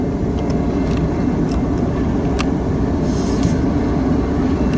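A BNSF westbound grain train in freezing February weather at Fremont, Nebraska, rumbles loud and steady with a continuous rolling roar and occasional metallic clanks, no voices.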